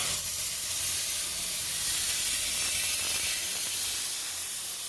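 A steady, loud roaring hiss of a cutting torch beveling steel runs unbroken for several seconds, with faint rattling texture beneath.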